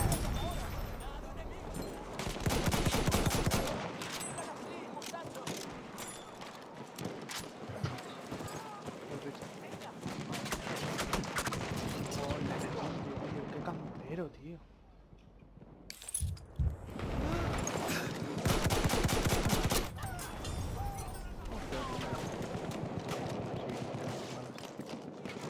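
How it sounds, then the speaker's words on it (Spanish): Gunfire and heavy cannon blasts from an anti-tank gun in a video game, loud bursts of shots with brief pauses, mixed with clattering effects and voices talking over the action. "Cañón antitanque, tío."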